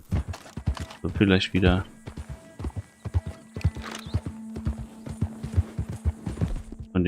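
A horse in Red Dead Redemption 2 clip-clops and whinnies in short bursts, with sharp hoof and tack clicks scattered throughout, while someone speaks German over the game sounds.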